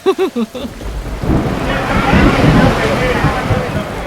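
Heavy rain and a rumble of thunder at an outdoor reunion in a Western-themed park, starting after a few short bursts of voices and then holding as a steady, loud wash of rainfall.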